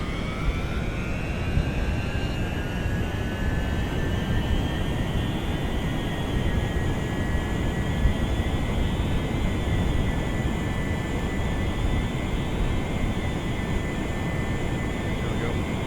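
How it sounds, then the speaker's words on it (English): Jet engine of a space plane roaring steadily through a runway takeoff in a video game, a loud continuous whine with rising tonal pitch throughout. "That's a pretty fancy space plane, if I do say so myself."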